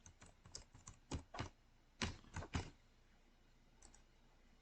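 Quiet, close computer keyboard typing comes in short bursts of sharp clicks, then pauses before a few final taps, with no talking.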